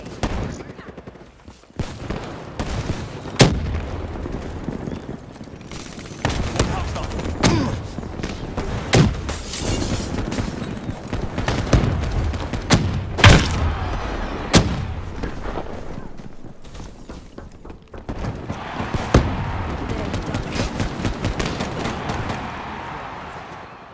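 Sharp sniper rifle cracks and other gunfire snap out irregularly in a military shooter game, loud and close, mixed with impacts and scattered battle noise while voices call out in between.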